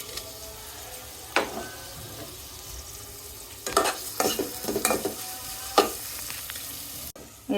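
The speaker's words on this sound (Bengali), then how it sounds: "এই তো পেঁয়াজগুলি বাদামি কালার করে ভেজে নিয়ে নিলাম।" Chopped onion and garlic fry in hot oil for a dal tempering, a steady close sizzle broken by several sharp scraping stirs of a spatula in the pan, with a brief drop near the end.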